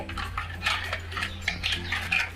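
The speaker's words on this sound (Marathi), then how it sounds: "मस्त हे व्यवस्थित हलवून घ्यायचं सगळं मिसळलं पाहिजे" A spoon clinks and scrapes steadily in a vessel while sugar is stirred into raw mango sherbet, soft and close, over a low steady hum.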